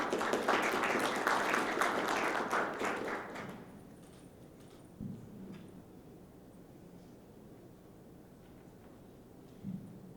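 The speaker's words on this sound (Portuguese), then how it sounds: "Então, as palmas aqui ao Fukuda." At a telecom industry forum, an audience claps for Mauro Fukuda, technology director at Oi: a dense burst of applause for about three and a half seconds that stops abruptly, leaving a quiet room with a few small knocks.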